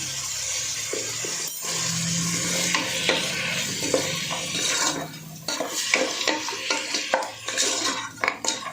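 Half a kilo of mutton with salt and turmeric fries in a pan, a steady sizzle under repeated scraping and clinking of a spoon stirring against the metal, loud and close with no talk.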